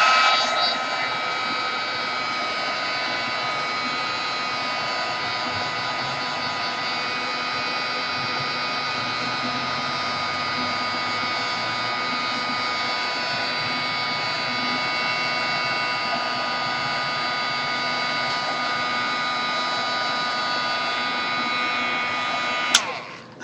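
A heat tool blows hot air to set colored artwork in an under-the-sea mixed media piece, giving a steady close whirring hum that runs without a break for over twenty seconds and cuts off abruptly at the end.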